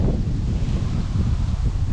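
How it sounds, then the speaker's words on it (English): Steady, low wind rumbles and buffets the microphone for a couple of seconds at a pond, with no voices. "A little windy."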